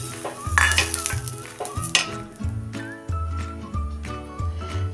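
Rice flour batter for amboli is stirred from the bottom of a metal pot, a rhythmic close scraping and clinking of the spoon against the vessel, with a faint whistle-like tone in the background.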